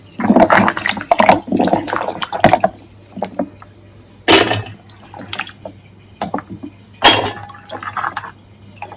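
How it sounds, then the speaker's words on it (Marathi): Water splashes and sloshes in bursts as freshly picked fig fruit is rinsed and swirled by hand, with clinks and drips between the louder splashes. "आणि एकदा पाण्यात धुवून घेते. एक पाणी आहे ना, ओतून देते."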